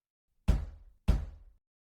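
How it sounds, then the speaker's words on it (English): Two heavy knocks on a door, loud and near, spaced roughly half a second apart, each followed by a short resonant decay, with nothing else audible. "A pause. Then 2 more knocks."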